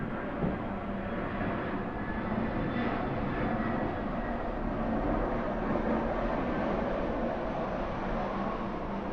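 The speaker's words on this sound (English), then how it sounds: "The jet is our meditation bell, right?" A steady, broad roar of a jet aircraft passing overhead, constant and enveloping throughout with no talking.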